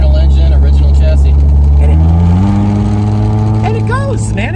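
A high-mileage Toyota Celica convertible with its original engine cruises along, a steady low engine drone that shifts up in pitch partway through as it accelerates, loud and close throughout.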